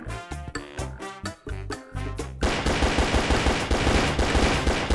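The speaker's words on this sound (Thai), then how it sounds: "ลองยิงดูนี่ครับคุณผู้ชม ปืนพกคู่นะครับ" Dual pistols fire in a Free Fire-style mobile shooter game, first as a run of distinct rapid shots, then as a dense, continuous loud burst of gunfire that carries on with a steady pounding rhythm.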